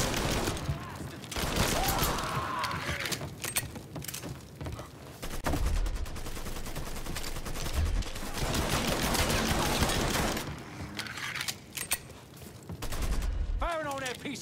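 Gunfire rattles through a shootout in the video game Mafia 3, with bursts of automatic fire and scattered shots over several seconds, loud and close, while voices shout over the fighting.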